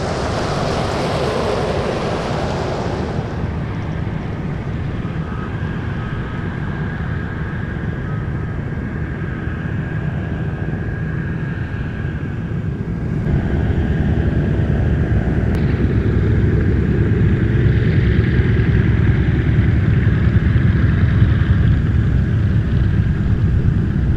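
A 1958 four-engine airliner with Pratt & Whitney R-2800 radials taxis at Anchorage airport, a steady broadband propeller roar that swells a little louder partway through and then holds at a constant level, with no talk.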